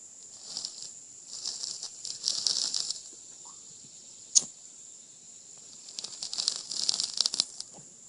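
Sutliff Molto Dolce pipe tobacco crackles as it is lit, with bursts of fine, dry popping and sizzling in two clusters separated by a quieter gap and one sharp snap, close and fairly faint, with no talking.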